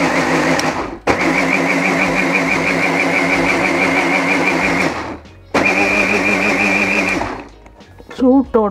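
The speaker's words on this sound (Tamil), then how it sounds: "இப்போ இந்த புளிஞ்ச தேங்காய் பூவை ஒருக்கா அரைக்க போகிறேன்." An electric mixer grinder grinds grated coconut with hot water, a loud steady whirring motor that runs for several seconds, cuts out briefly, then restarts.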